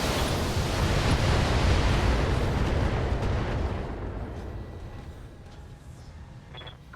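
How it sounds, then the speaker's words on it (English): Mech weapons firing together in the BattleTech video game produce a huge rumbling blast that holds loud for a few seconds, then slowly fades into a low, lingering roar. "Continue fire. All weapons."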